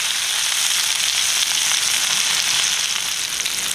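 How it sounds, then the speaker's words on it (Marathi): Malvani-style fish frying in a pan, a steady dense sizzle and crackle of hot oil held close and loud throughout with no pauses or voices. "चुरचूर आवाज बंद होण्यापर्यंत आपण चांगले खमंग भाजून घ्यायचे ते पूर्ण"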